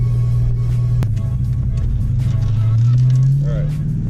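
A 1991 Ford Mustang Fox Body GT drives along with a loud, steady low engine drone and a rising rev toward the end, heard from inside the car with a single sharp knock early on.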